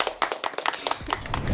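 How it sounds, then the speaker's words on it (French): A small audience breaks into quick applause, several pairs of hands clapping briskly together nearby for a short burst. "Merci, on peut l'applaudir."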